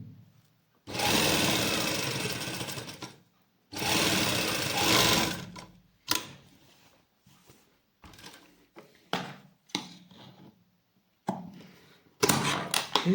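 A sewing machine stitching a straight salwar from thin, loose fabric, running in two long bursts and then a string of short, stop-start runs, loud and close with no talk.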